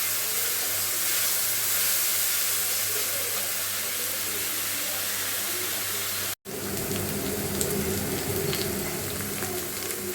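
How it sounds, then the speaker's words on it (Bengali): Onion paste and ginger fry in a pan, making a steady, close sizzle with a brief cut partway through and light stirring scrapes after it, and no one speaks. "পেঁয়াজটা ভাজতে ভাজতে একটু আদাটা দিয়ে দেবো"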